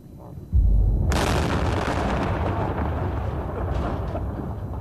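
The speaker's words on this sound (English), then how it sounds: "The Marines carry on as they started, laying down rockets to clear Pharmacy Road of IEDs." Marine rockets blast Pharmacy Road in Afghanistan to clear IEDs, a sudden loud, deep explosion that rolls on as a long, heavy rumble fading slowly.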